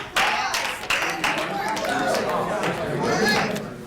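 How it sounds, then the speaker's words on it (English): A room full of people claps in a brief round of applause, uneven hand claps with scattered chatter and voices mixed in. "Round of applause."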